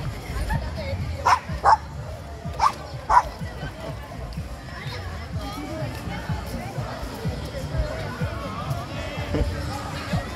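A dog barks and yips several times in quick bursts early on at a night market, amid outdoor background noise and a murmur of people.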